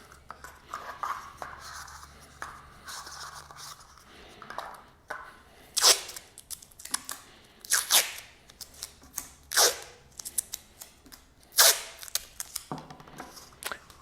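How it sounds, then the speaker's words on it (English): Tape torn and pressed on to fix cups on a homemade anemometer, heard as several short, crackly ripping bursts spaced a second or two apart after a quiet start. "Go ahead and tape all 4 cups on."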